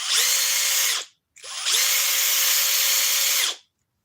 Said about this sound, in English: Drill mode.